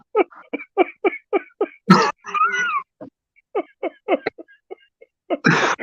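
A sneeze bursts out near the end among a string of short, clipped vocal bursts and coughs, close and fairly loud, in a quiet indoor setting.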